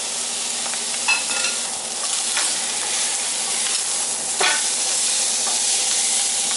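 A T-bone steak searing in the middle of an open fire, giving a loud, continuous crackling sizzle with occasional brighter pops and bursts, heard close and without anyone talking.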